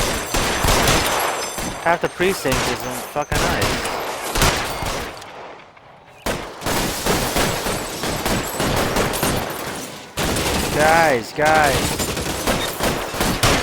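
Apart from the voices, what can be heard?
gunfire in video game L.A. Noire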